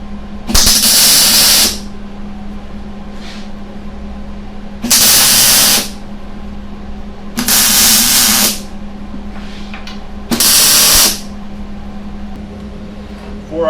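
Tack welds on the frame of a DIY go-kart kit, four separate loud bursts of harsh, crackling hiss, each lasting about a second, set apart by pauses over a steady low hum.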